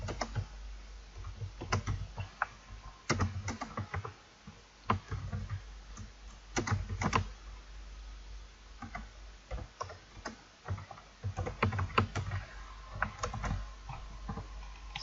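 Steady, rapid keystrokes on a computer keyboard while C++ code is written, clicking in uneven bursts with brief pauses, close and moderately quiet over a low background hum.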